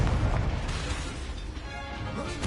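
An Expelliarmus spell blast lands in a Harry Potter video game duel, a heavy booming burst with crashing rumble that swells and fades over a couple of seconds, loud and close.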